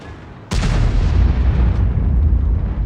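A T92 HMC self-propelled artillery gun fires in World of Tanks, a single sudden loud close boom followed by a heavy, sustained low rumble that keeps rolling to the end.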